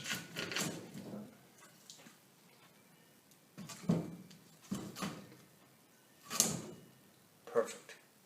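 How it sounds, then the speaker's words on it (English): Split firewood pieces laid into a home fireplace one at a time, giving several separate woody knocks and clunks at an irregular pace, close by and moderately loud, with quieter handling noise between them. "So we'll place the firewood in the fireplace."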